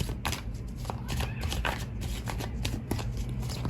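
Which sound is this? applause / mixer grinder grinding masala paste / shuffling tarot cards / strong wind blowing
shuffling tarot cards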